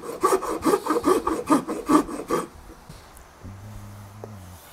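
A medium-cut Iwasaki file rasps rhythmically across guitar wood for about eight quick strokes during a custom build, then stops, leaving a quiet room and a faint low hum.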